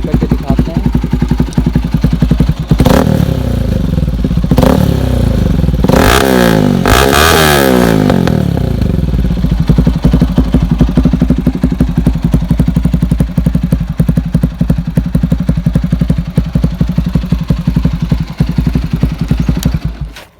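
A Bajaj NS200 motorcycle without its dB killer, fitted with an aftermarket exhaust, idles loudly and close by with a deep burbling note, breaking into a few sharp revs early on before settling back to a steady throb.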